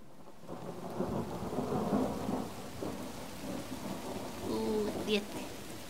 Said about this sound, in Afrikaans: Maar dis donder weer. Dis reg. Dis reën.